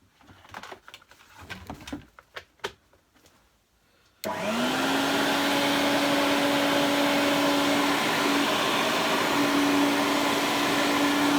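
An Electrolux Turbo 2 vacuum cleaner starts up after a few knocks and clicks, then drones loudly and steadily with a sustained motor whine until the end.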